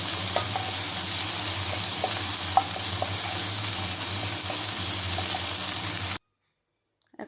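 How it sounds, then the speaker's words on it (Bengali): Onion, garlic and green chillies get stirred in hot oil, giving a continuous loud sizzle with scattered light scrapes and taps for about six seconds, then an abrupt cut to silence with a brief knock at the end. "এখন এর মধ্যে পেঁয়াজ, রসুন, কাঁচা লঙ্কা সব মশলাগুলো দিয়ে দিব। দিয়ে এখন এটাকে একটু নেড়ে নিচ্ছি।"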